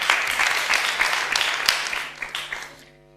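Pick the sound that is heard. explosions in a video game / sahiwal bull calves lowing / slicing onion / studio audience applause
studio audience applause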